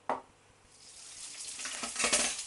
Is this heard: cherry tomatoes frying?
yes